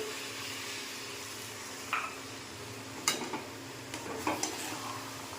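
Chana dal halwa being stirred in a pan after milk is poured in, a quiet low sizzle under a few sharp spoon knocks and scrapes against the pan, spaced irregularly.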